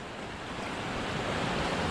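River Washburn running high after rain on its way towards Thruscross reservoir, a steady broadband rush of water building slightly louder, with no voices.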